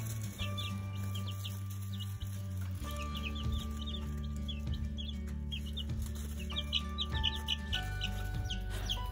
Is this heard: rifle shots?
no